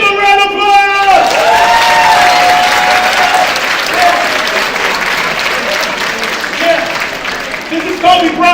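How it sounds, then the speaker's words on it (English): Loud, sustained applause and cheering from a large keynote audience, with a voice speaking over the crowd near the start and again near the end. "Give a round of applause"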